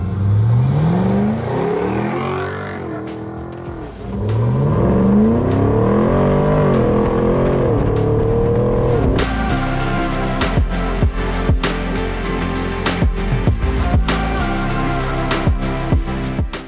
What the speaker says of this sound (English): This 110 is powered by our 450 horsepower LT1 engine with 8-speed automatic transmission.